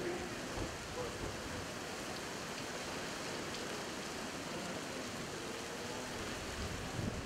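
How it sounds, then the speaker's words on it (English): Heavy rain pours steadily at a supermoto race track in a thunderstorm, a dense, even roar, loud and close, with no break throughout. "The rain is so heavy."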